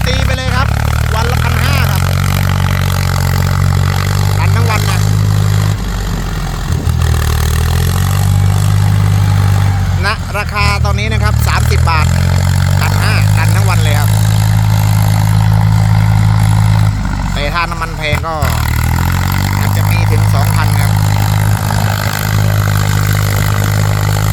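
A 65-horsepower three-cylinder diesel engine of an eight-forward, eight-reverse gear machine runs with a loud, steady low drone, rising and dipping in pitch a few times as it is throttled.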